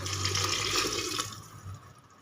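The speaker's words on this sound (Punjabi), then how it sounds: "ਹੁਣ ਪਾਣੀ ਪਾ ਦਿੰਦੇ ਆ ਵਿੱਚ" Water poured into a pan of mushroom gravy gives a soft, continuous splashing rush that fades off after about a second and a half, quiet and close.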